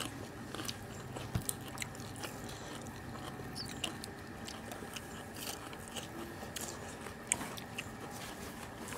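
Crispy Thai roast pork being chewed with crunchy bites, close and quiet, with repeated crackling chews and a few sharper crunches, no talking.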